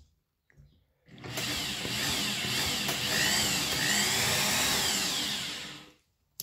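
Motorized bead roller switched into reverse, its drill-type motor whirring steadily and fairly loud for about five seconds before cutting off, with no talk over it.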